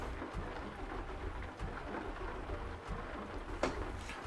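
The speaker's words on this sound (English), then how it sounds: "Fucking rain." Rain in American Truck Simulator: a steady, dense hiss of rainfall on surfaces, moderately quiet and continuous, with occasional brief pattering accents and no talking.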